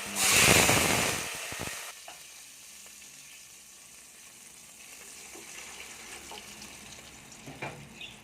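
Water poured into hot oil with fried whole spices for tempered rice bursts into a loud, crackling sizzle for about two seconds, then settles into a soft, steady hiss with faint bubbling.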